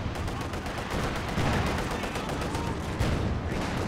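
Dense, continuous gunfire in the Company of Heroes 2 video game, with rapid machine-gun bursts and overlapping shots forming a steady, loud crackling wall of sound. A voice talks over it.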